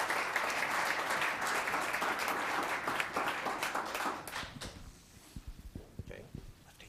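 Audience applause at a town council meeting, a full room clapping for about four seconds before thinning into scattered claps and small noises as it dies away.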